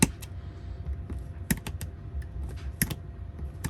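Sharp, irregular clicks and scrapes of a knife scoring the plastic shell of a Game Boy Color, close and fairly quiet, with a few louder snaps around the middle and near the end over a low background rumble.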